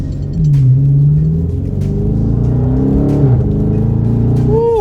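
A car with a muffler delete rumbles loudly and close as the engine revs, with deep exhaust drone and a few sharp pops near the end.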